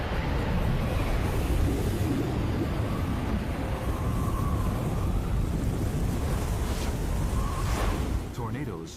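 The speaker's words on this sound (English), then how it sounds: "Tornadoes reach extremely high wind speeds, up to 200 meters per second." Tornado winds roar as a dense, continuous rush that stays loud and steady throughout, then eases slightly near the end.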